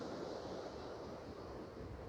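Sea waves wash steadily onto the shore at dusk, a continuous broadband rush with gentle swells and a touch of wind, no voices present.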